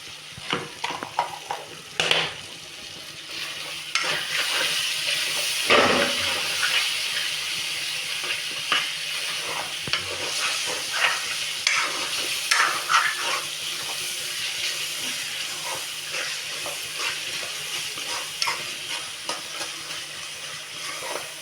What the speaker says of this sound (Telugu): ఉల్లిపాయలు మగ్గుతున్నాయి కదా ఇప్పుడైతే మనం అల్లం వెల్లుల్లి పేస్ట్ అయితే వేసుకుంటున్నాను